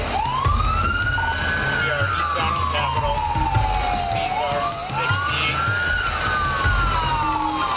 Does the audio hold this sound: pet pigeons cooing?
no